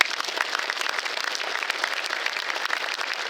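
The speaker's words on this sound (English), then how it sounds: "Let's give another big round of applause." Sustained applause from an audience at a baseball Hall of Fame induction ceremony, a bright, even wash of many hands clapping at a steady level throughout, with no talking.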